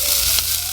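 Red onions and yellow mustard seeds sizzling in a pan, a short, steady fry with a brief crackle partway through, close and fairly loud.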